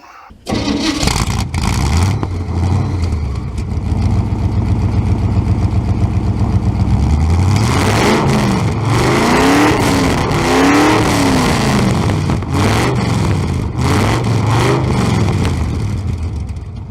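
A 1971 International Travelall 1210 truck engine with straight pipe exhaust cranks to life and revs hard several times, a loud, raw, rumbling exhaust rising and falling close by.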